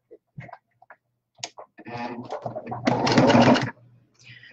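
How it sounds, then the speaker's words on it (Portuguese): A sewing machine stitches a fabric face mask in a short run of about a second, preceded by scattered clicks and handling of the cloth, with no talking heard. "Vou posicionar e vou passar costura."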